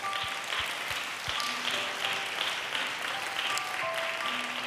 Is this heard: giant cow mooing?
no